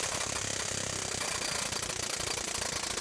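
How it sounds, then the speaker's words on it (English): A Texas Twister air hammer pulling kit, run off an air wrench through a vice grip adapter, hammers at a seized brake caliper pin, giving a loud, dense, continuous pneumatic rattle for the whole stretch. "here's our Texas twister hooked onto the air wrench, connected to the vice grip adapter, and onto that completely stuck caliper pin"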